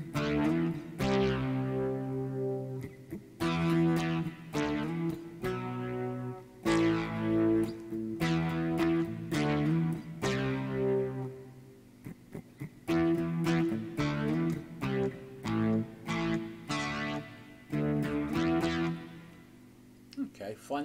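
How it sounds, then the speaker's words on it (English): Electric guitar played through an overdrive effect in Rakarrack software on Arch Linux, with distorted strummed chords in repeated bursts and short pauses, loud and close. "Sounds kind of okay for an overdrive."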